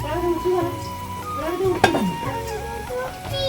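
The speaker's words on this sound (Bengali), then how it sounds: "এই যে খুব সুন্দর করে পেঁয়াজ ভাজা হয়ে গেছে" Onions frying in a pan for a home-style gram flour (besan) dish give off a close, steady sizzle with occasional stirring scrapes, one sharper clatter near the middle, and a faint tonal hum running underneath.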